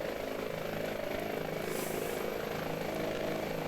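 A steady, continuous turbine whine and rotor drone from an Airbus H145 helicopter in Microsoft Flight Simulator 2020, holding an even level throughout with no talk.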